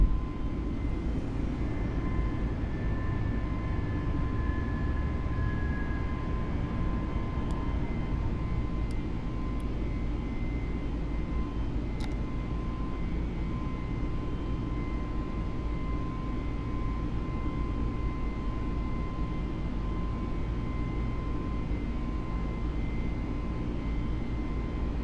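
A steady, continuous jet roar with faint high whines comes from A32NX airliner engines during the takeoff climb from KDFW in Microsoft Flight Simulator. A few tiny clicks break through early on.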